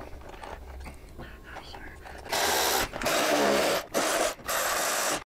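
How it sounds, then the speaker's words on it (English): A power driver runs screws into a motorcycle amp tray, with several loud bursts of whirring separated by short pauses, close up and following a stretch of quiet handling noise. "go ahead and get those screws ran in"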